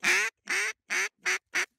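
A duck quacks five times in quick succession, loud and close, each call a harsh nasal burst separated by short pauses and getting shorter toward the end, with no talking.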